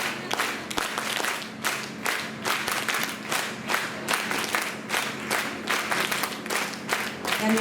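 A gathered crowd claps for Mahendrabhai in a rhythmic, loud group applause that pulses in steady counted waves, sustained throughout with a few voices mixed in.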